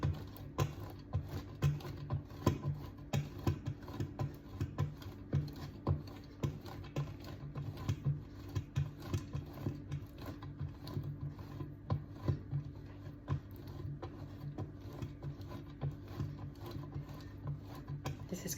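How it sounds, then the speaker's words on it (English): Cheese grated by hand against a box grater, a close, steady run of quick rasping strokes that repeats for a long stretch with no talk. "you just grate along that side of the grater"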